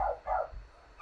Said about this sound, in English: I apologize for my dogs in the background